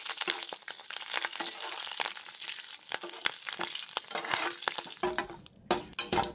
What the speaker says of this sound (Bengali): এবার এর মধ্যে দিয়ে দিচ্ছি অল্প কালো সরিষে আর দিয়ে দেবো অল্প কারি পাতা। এগুলোকে আমি হালকা একটু ভেজে নেব।